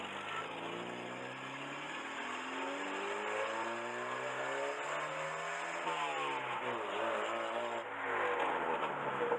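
Engine of a Mercedes W115 while driving, a steady mid-pitched hum whose pitch rises and falls gently with speed changes, close and continuous throughout, with no talking.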